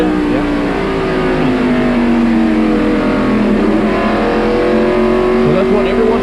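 NASCAR stock cars race in the 1993 Holly Farms 400 at North Wilkesboro, their V8 engines roaring and pitching up and down as they lift off and get back on the throttle, with commentators talking over the loud, continuous racket.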